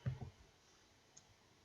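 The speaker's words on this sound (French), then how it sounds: "vous allez cliquer dessus, comme j'ai fait" One quick double click of a computer mouse sounds right at the start, close and clear, and a faint tick follows in quiet room tone.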